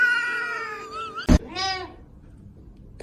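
A cat gives two drawn-out meows, close and fairly loud, the first wavering and the second rising then falling, with a sharp bump between them and quiet after.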